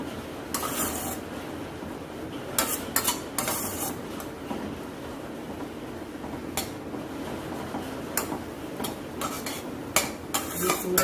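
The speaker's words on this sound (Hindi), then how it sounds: "थोड़ा सा अभी दूध रहा है, वो पूरा जल जाए तब तक हम इसे हिलाते हुए पका लेंगे" Beetroot halwa with milk being stirred in a pan over a medium-low flame, a spoon scraping and clinking against the metal in repeated bursts over a soft sizzle.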